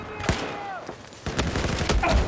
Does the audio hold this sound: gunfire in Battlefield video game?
yes